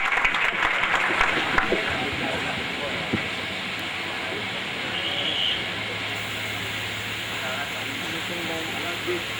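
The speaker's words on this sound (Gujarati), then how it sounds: "તાળીઓના નાદથી વધાવીએ પૂજ્ય લાલજી મહારાજની અમૃત વાણીને." A large devotional gathering at a Guru Poonam celebration in Vadtal applauds with steady, moderately loud clapping, strongest at the start, with a faint hiss and murmur beneath.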